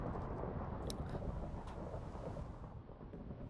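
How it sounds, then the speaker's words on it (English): A thunderstorm in the Minecraft video game, with a steady wash of rain and a low rolling rumble of thunder, faint and distant, with a couple of brief crackles. "wow, a real thunderstorm."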